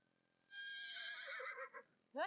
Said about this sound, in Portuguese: Você sabe identificar o relinchar de um Senner?